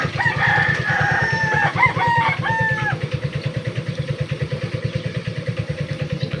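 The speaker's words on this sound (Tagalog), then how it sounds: "ito yung aking Rhode Islands na manok" A Rhode Island rooster crows loudly once, nearby, over the steady chugging putter of an idling engine that continues alone afterward.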